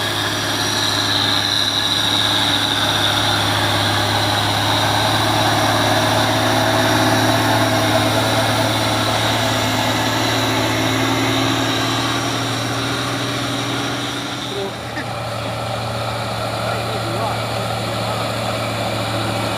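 A loaded truck labours uphill while overtaking, its engine droning steadily and loudly throughout with a slight dip near the end; steady broadband road and engine roar.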